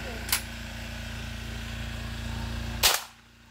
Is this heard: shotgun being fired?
yes